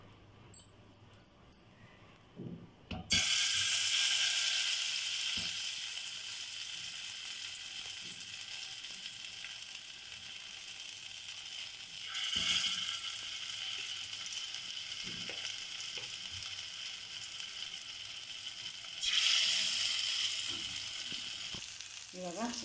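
Eggs drop into hot oil in a pan for masala egg dry roast and set off a loud close sizzle that keeps crackling, with fresh bursts flaring up twice more.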